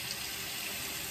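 Cold tap water gushes steadily from a faucet, a loud, continuous hiss with no pauses and no voices.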